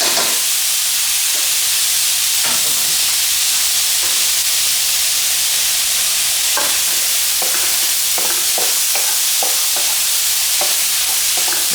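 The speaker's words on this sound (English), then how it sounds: "So let's just stir fry this up." Crushed garlic, small chilies and spring onions stir-fried in a hot pan give a loud constant sizzle, with repeated scraping and tossing strokes that come faster and closer together toward the end.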